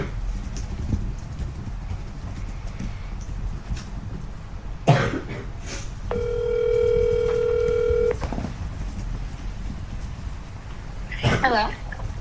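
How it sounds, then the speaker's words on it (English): A telephone dials out over speakerphone during a committee meeting, with a steady tone of several stacked pitches lasting about two seconds mid-clip, surrounded by coughs, shuffling and background room noise. "The next interview is a phone interview. I will give her a call."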